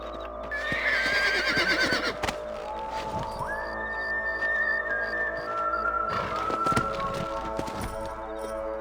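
Horses in the video game Red Dead Redemption whinny loudly several times over the steady clip-clop of hooves, with a sustained tonal drone running beneath.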